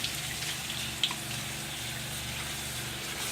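Running tap water rinses a freshly cleaned fish, a steady broadband wash of water under the faucet with a brief splash near the start, close and continuous with no talking.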